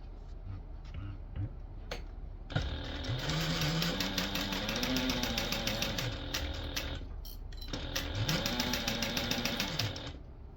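A sewing machine runs in long rapid bursts while sewing the zipper panels of a small Transponster tote, its motor whirring up and down in pitch with a short pause between runs; someone speaks over it.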